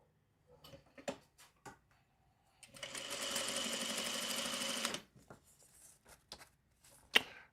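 A sewing machine stitches fabric in one quick burst of about two seconds, a fast whirring chatter set between soft handling clicks and taps.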